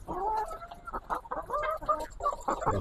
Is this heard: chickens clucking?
yes